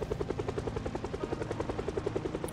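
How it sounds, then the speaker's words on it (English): A helicopter in the video game Project Zomboid beats steadily with a fast, even rotor chop, loud and continuous, with no talk over it. "the helicopter might do a good job of drawing out the few."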